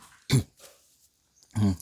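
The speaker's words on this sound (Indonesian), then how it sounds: "Mohon maaf masih batuk ya" Two short, throaty coughs a little over a second apart, close and fairly loud, with a faint sound between them, from someone presenting a Samsung Galaxy A52s phone.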